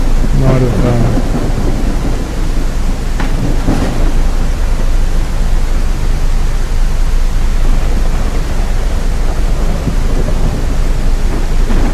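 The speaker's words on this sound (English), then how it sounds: "these storms really settled in" Heavy thunderstorm in the Professional Ship Simulator video game: dense, steady roar of rain and wind fills the scene, with rumbling thunder building near the start and a faint voice buried under the storm.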